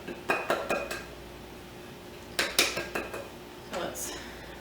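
Flour tossed around inside a greased metal baking pan, heard as a few bursts of rattling, scraping clatter with pauses between them in a quiet kitchen.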